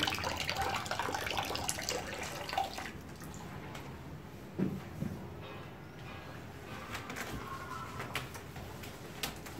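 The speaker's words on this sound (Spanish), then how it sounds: "damos una buena lavada partirá todo el polvo con agua, solamente con agua limpia." Clean water and a felt roller wash dust off a freshly plastered wall, giving steady wet scrubbing and trickling with occasional splashes and drips, continuous and moderately close, without any talking.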